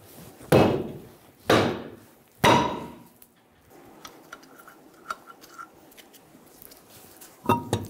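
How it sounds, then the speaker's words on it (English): Three loud metallic strikes from a hammer hit the back of a stuck wheel rim on a 2000-2007 Ford Focus, spaced about a second apart, followed by lighter clinks and another blow at the end. "we're going to hit the rim on the back."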